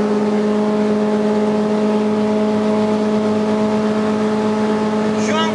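Two cars race side by side at high speed in a second-gear-onward drag run, a steady loud engine drone with strong sustained tonal harmonics and no pause throughout.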